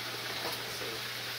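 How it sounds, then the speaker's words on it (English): A pot of water boiling on a home kitchen stove, giving a steady, close bubbling and hissing wash that continues evenly and alone. "that's bubbling now."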